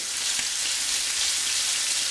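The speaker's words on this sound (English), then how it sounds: "So we just want to fry this bacon on a medium to high heat." Smoked bacon sizzles in a pan of oil over medium-high heat, a steady, dense crackle and hiss close by with no voices.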